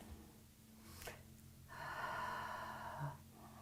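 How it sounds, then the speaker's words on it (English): Deep breaths drawn in and let out during a yoga class, a brief sharp inhale followed by a longer, steady breathy exhale, close and fairly quiet with no talking. "Let's take a few deep breaths in."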